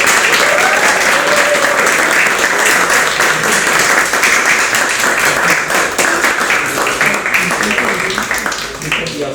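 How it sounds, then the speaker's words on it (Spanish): An audience applauds a teacher at a talk during the Festival Raíces in Bogotá, with dense, steady clapping throughout that eases slightly near the end, and voices underneath. "un aplauso para el maestro Jessy"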